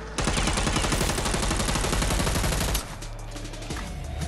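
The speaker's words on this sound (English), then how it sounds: "Machine gun." Machine gun fire in Dead Island 2, a dense, continuous burst of loud automatic shots close up, lasting nearly three seconds before cutting off into quieter background ambience.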